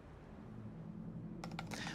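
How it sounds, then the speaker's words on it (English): A computer keyboard clicks in a quick burst of typing, with key presses rattling close and fairly loud after a stretch of quiet room hum, with no talking. "Why am I typing in caps so much?"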